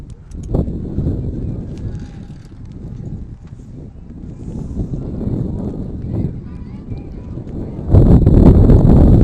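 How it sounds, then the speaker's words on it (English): Gusty wind buffets an outdoor microphone at a softball game, a rumbling, roaring noise that swells and ebbs throughout and surges loudly near the end, with a commentator's voice faintly underneath. "Wind is definitely picking up here."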